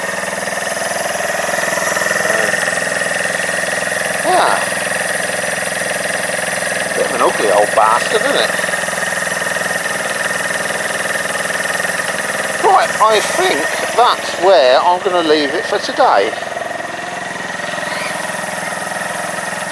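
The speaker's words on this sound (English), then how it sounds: "That's revving really well, and it's very responsive as well." A Keeway RKV125 motorcycle engine idles steadily and close by throughout, with occasional revving, while someone talks over it now and then.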